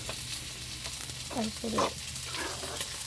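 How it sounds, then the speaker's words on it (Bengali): Fish fries in a pan with a soft, steady sizzle. A few clinks and scrapes from utensils are heard close by. "যে কাজগুলি করবো মাছ ভাজি, সেটা তোমাদের দেখাচ্ছি"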